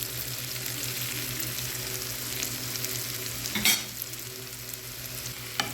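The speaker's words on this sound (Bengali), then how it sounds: "রসুনটা বাদামি হয়ে গেলে এখন ডালের উপর দিয়ে দিব" Browned garlic tempering pours over achari dal, bursting into a sharp, loud sizzle for an instant against a steady background of frying hiss.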